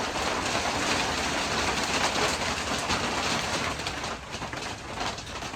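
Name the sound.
rain falling outside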